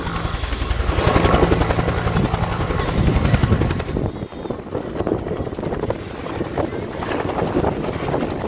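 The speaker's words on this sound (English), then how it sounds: "a great helicopter such as this eventually has its day" A Bell UH-1H Iroquois helicopter of the Vietnam era runs loud and close at an airshow, its dense rotor thud and turbine roar steady throughout, with gusts of wind buffeting the microphone.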